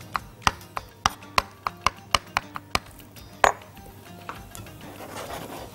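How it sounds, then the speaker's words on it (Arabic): Roasted garlic being minced with a knife on a cutting board, about a dozen quick, sharp chops in an even rhythm, then a pause and a few scattered taps, close and clear. "التوم المشوي بس ايه افرمه اكتر من كده شوية"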